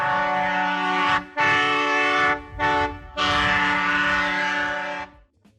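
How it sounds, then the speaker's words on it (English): Several Nathan airchime horns on a 1967 Canadian locomotive sound loud and close, playing the tuned opening notes of O Canada as three sustained chords with brief gaps between them, then falling silent. "The lead locomotive, 1867, was equipped with multiple Nathan airchime horns that were tuned in sequence to play the opening"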